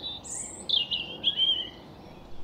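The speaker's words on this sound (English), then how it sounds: "Robin, birdsong of the week." A bird sings a series of high, thin warbling phrases, clear and fairly close, over a soft, steady outdoor background.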